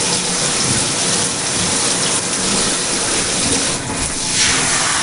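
Running water rinses a cream relaxer out of hair, a steady, close, broadband splashing hiss that continues unbroken with slight surges near the end.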